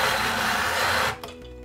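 A Conee home shaved ice machine runs with a steady, loud motorized whir and grinding hum as it shaves ice, then stops abruptly, leaving a few faint clunks.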